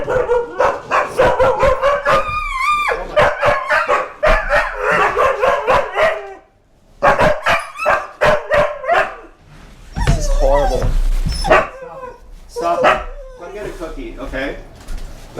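Several dogs bark in sharp, repeated bursts close by, with yips and whining mixed in, while a person talks over and between the barking.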